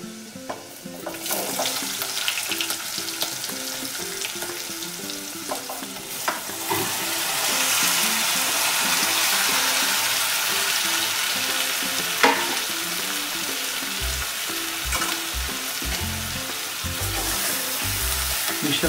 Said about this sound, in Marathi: आता फोडणीला द्यायची